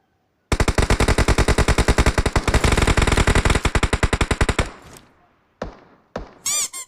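Rapid automatic gunfire in PUBG Mobile, a long loud burst of closely spaced shots lasting about four seconds, followed by a few separate thuds and clanks, with no voices.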